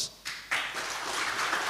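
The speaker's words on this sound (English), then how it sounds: "Applause." Conference audience applause starts with a few scattered claps, then swells into steady, moderately loud clapping from a crowd in a hall.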